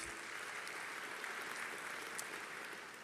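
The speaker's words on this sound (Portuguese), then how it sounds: "Vamos aplaudir e ser gratos a eles." A church congregation claps together, a steady wash of applause that sounds distant and faint, with occasional sharper individual claps.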